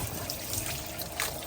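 Water poured into a vessel while preparing somen noodles, a steady close trickle and splash running throughout with no talk.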